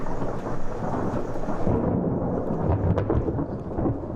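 Thunder from a building lightning storm rolls loud and close, a continuous deep rumble with steady rain hissing underneath throughout.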